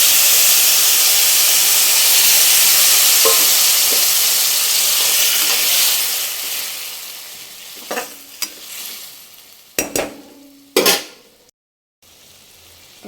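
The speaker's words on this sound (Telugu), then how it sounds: "ఇప్పుడు చింతపండు రసం యాడ్ చేయాలి." Tamarind juice hits a hot pan for a bitter gourd curry, giving a loud, steady sizzle and steamy hiss that fades over several seconds, followed by a few sharp clanks of a spoon against the pan.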